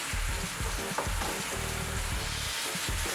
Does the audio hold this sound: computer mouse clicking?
no